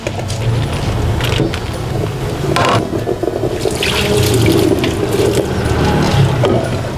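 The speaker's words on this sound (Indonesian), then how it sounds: "Kita tiriskan aja di saringan seperti ini" Food drained in a strainer at a kitchen sink while making thiam pan cung, a Bangka dish: steady running, splashing water with some clinks and rattles, loud and close, with no talk.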